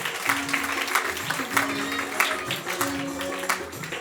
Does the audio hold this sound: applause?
yes